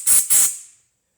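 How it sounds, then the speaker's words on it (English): Compressed air at 30 to 35 psi is blown through a motorcycle carburetor, coming as two sharp close hissing bursts in quick succession before it falls silent. "And now we will use the 30 to 35 psi of air"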